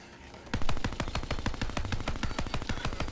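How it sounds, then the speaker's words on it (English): Rapid automatic gunfire in a video game, with bullets ricocheting back at the shooter, a loud close stream of evenly spaced shots that starts abruptly and runs without a break. "Got my own bullets flying back at me off of this guy."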